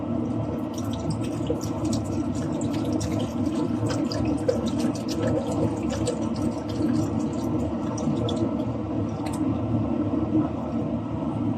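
Water being poured into a cooking pot, a steady close splashing and trickling stream running throughout with faint clinks.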